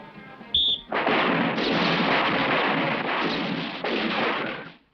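A rapid, sustained burst of gunfire at a shooting range, loud and continuous for several seconds after a brief single shot, then cutting off.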